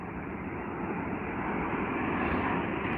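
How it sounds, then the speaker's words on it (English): A Virgin Atlantic Boeing 787 Dreamliner at Heathrow makes a loud, steady jet-engine roar that holds constant throughout and swells slightly toward the end. "Virgin Atlantic in the Boeing 787 Dreamliner."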